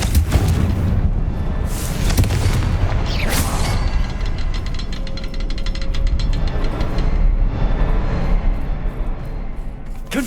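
Repeated loud magical blasts from the Confringo fire spell in Hogwarts Legacy, bursting close and heavy over rumbling game background, several booms spread through the stretch.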